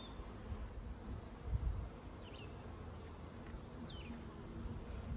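Honeybees drone at an open hive during a merger split, a low, steady buzz with faint fluttering wingbeats passing close by, no voices.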